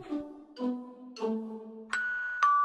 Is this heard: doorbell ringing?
yes